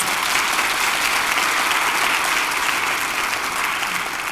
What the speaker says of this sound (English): So give those folks at the First Baptist a round of applause.